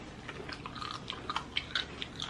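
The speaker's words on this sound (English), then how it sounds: "Crunch on that gristle." Close, wet chewing and crunching of chicken wing tip gristle, a run of irregular crisp bites and crackles over about two seconds with no talking.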